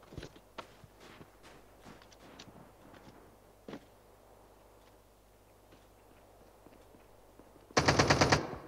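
Video game gunfire in Nova: scattered single shots and footsteps, then a loud rapid burst of automatic fire near the end.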